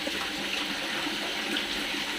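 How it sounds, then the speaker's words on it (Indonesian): Water from a small waterfall pours steadily into a fish pond, a continuous, even rushing and splashing with no voices over it. "kolam, air terjun itu"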